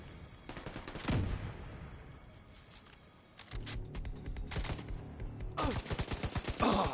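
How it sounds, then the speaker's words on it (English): Video game gunfire: bursts of rapid automatic shots and scattered single cracks, loud and close, with a quieter stretch midway before heavy firing resumes, no voices over it. "Taking heavy fire."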